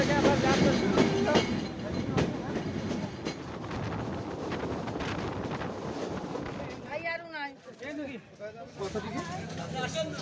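Sundarban Express train pulling out of Mobarakganj railway station, a loud rolling rumble with rhythmic wheel clatter and wind buffeting, easing later as a voice talks over it.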